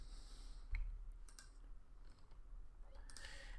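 A computer mouse clicks during coding work, with a few faint, sharp clicks scattered over a quiet room background.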